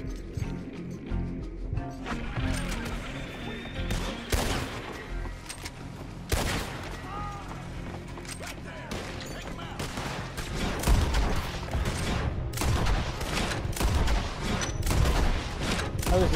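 Gunfire in Red Dead Redemption 2, a string of sharp loud shots and bursts scattered across the scene, some in rapid succession, with game ambience and occasional voices underneath.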